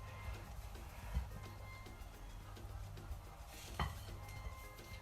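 Flour and water worked together by hand in a mixing bowl for fry bakes dough, quiet soft scraping and light knocks against the bowl, close and faint with a couple of sharper taps.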